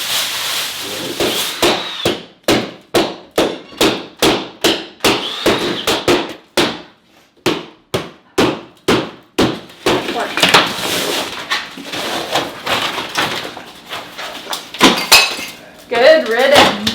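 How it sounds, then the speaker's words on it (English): Moldy drywall is cut and torn out of a wall in a rapid series of sharp cracking and breaking impacts, loud and close, with a person talking over the later demolition. "we're going to completely cut the drywall out"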